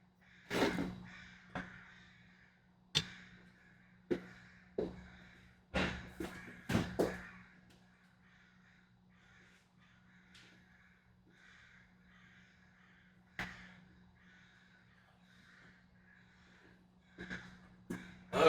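Crows cawing outdoors in loud, scattered bursts, several calls overlapping in quick clusters with quieter gaps between, heard from a kitchen where fish tacos are being plated, with a steady low hum underneath and no talk.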